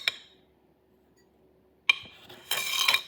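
A spoon clinks against a cup as sugar is stirred into tea: a single tap, a long quiet pause, then a sudden clatter and a quick run of bright metallic clinks, close by.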